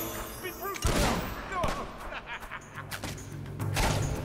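Gunfire in the video game Fable 2, a busy run of shots and thuds mixed with game noise, with voices talking over the action.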